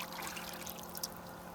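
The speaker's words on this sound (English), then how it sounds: "we're going to make a slurry just by stirring it with our hand or with a stick" Diatomaceous earth slurry is stirred by hand in water, producing a faint, steady trickling swish with one small splash midway.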